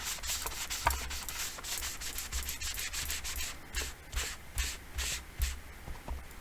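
A sponge rubbing ink onto paper with a masking technique, giving soft repeated scuffing strokes in a steady up-and-down rhythm, close and fairly quiet, with no voices.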